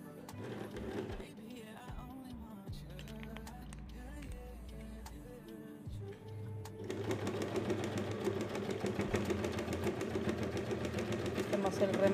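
Sewing machine stitching together right-side-facing fabric pieces of an organizer basket, a steady mechanical whir that starts lighter and grows louder and denser partway through, with a voice talking over it.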